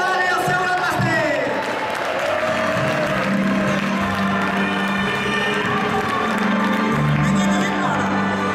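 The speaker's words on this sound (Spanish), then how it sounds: "Un aplaudiment per la Dani, el seu gran vestit!" Audience applause and cheering at a festive Castellers de Castellar awards gala, a loud, dense crowd of claps with shouts and voices mixed in, lasting throughout.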